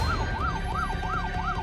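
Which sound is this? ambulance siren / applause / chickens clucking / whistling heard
ambulance siren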